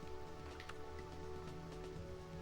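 Rain falls steadily in the golf video game Hot Shots Golf Fore!, a soft, continuous patter with scattered drop ticks over a low, faint background hum.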